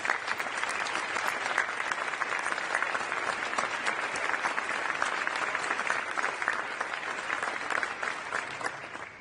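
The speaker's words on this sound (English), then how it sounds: "let's give these outstanding public servants a round of applause" Dense, continuous applause from a large audience of military and government leaders rolls on evenly for several seconds, a full crowd clapping at a distance with no voices on top.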